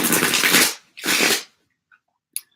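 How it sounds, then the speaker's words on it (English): A deck of cards being shuffled, heard as two loud, close riffling bursts one after another, followed by a few faint small clicks and taps. "I love the way these cards shuffle."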